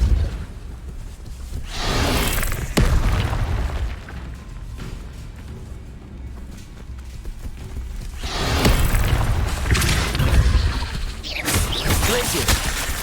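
Repulso spell cast in the video game Hogwarts Legacy: a few loud whooshing magical blasts with booming low thumps, surging in separate bursts over a continuous game background.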